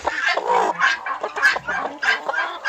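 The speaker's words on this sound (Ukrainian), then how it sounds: "Ось квочка, дивіться, вже так хоче назад на яйця, що капець." A broody hen in a farmyard clucks close and loudly in repeated short, agitated bursts that run almost continuously, with no talk over them.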